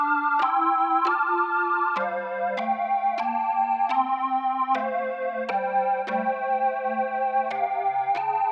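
Arturia V Collection Jupiter-8 software synth playing its Heaven's Pearl preset: a steady run of bright, bell-like chords struck about every half second, each attack sparkling over a sustained pad, with no voices.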